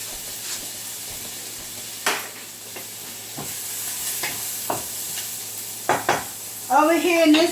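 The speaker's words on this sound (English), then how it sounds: "I'm sauteing my onions until I get a nice golden color until it simmer down a little." Onions sauteing in a pan for homemade lasagna give a soft steady sizzle, broken by scraping stirs and utensil clinks, with a brief voice near the end.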